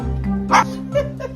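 A cockatoo imitates a dog's bark, giving a few short yips and woofs at close range, with a steady hum underneath.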